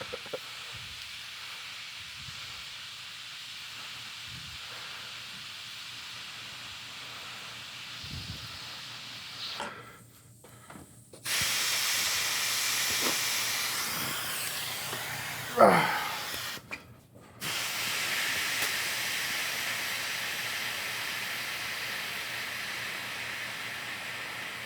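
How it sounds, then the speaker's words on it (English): Steam hisses from valves while a Thanksgiving dinner is cooked. The loud, broad hiss surges in twice and sustains for several seconds each time, and a quieter background rushes around it. "Still too much steam."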